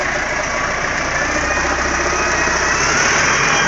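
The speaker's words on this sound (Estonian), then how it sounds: "Veijo traktoriga sõidab." Tractor engine running close and loud with a steady knocking rumble and vibration, holding an even level throughout with no voices.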